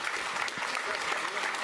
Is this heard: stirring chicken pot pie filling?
no